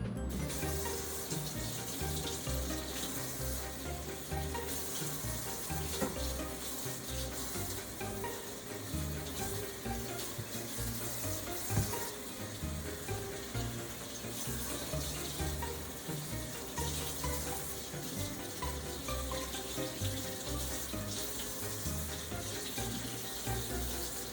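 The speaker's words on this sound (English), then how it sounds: "You might have to wash that one off in the sink." Water runs steadily from a sink tap while something is rinsed off, a continuous broad splashing wash that stays even and fairly close throughout, with no talking.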